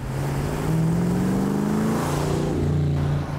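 A classic Mercury car with a 4-speed gearbox revs its engine, a loud, steady drone that climbs in pitch, then drops and settles back, heard close without talk.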